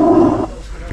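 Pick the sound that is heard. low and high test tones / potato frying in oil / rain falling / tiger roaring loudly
tiger roaring loudly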